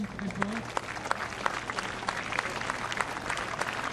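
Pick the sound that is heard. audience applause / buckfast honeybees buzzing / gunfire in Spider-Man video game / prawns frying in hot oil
audience applause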